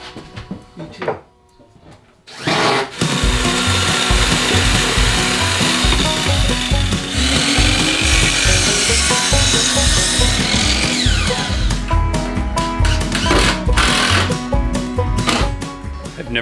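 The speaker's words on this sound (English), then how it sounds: "I've never cut any wood on a 45-degree angle with a miter saw." A miter saw cuts wood at a 45-degree angle inside a school bus being converted, its loud motor whine running steadily for most of the stretch after a brief quieter start, with some cutting noise on top.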